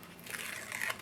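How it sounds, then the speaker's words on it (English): Backing is peeled off adhesive craft paper in one short, close crinkling tear that rises briefly and then stops. "I'm going to peel off the backing"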